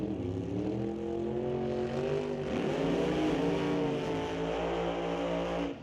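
A supercharged drag racing engine with a big blower hood, likely a 1970 Plymouth Duster at a drag strip, roars loud and steady for several seconds with a rough rumble and shifting pitch, close to the listener.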